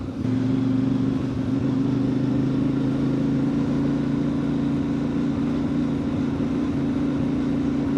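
CFMoto 450 MT motorcycle engine hums steadily at low speed in second gear, a close, continuous low drone with little change in pitch and no clear surging.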